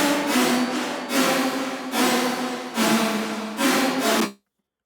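Dubstep synth bass with all modulation destinations bypassed: four roughly one-second droning, buzzy notes with steady repeated swells, loud and up front, then abrupt silence.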